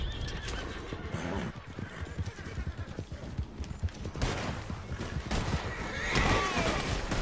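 In the Red Dead Online video game, a horse whinnies and neighs loudly while hooves clop steadily, with bursts of rapid gunfire in the background.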